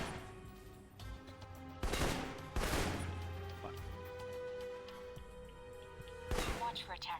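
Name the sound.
assault rifle gunfire in Alpha Protocol video game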